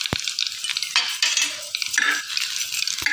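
Green chilies frying in hot oil in a home kitchen, sharp sizzling bursts with a stirring scrape and a couple of pan clinks, close and lively.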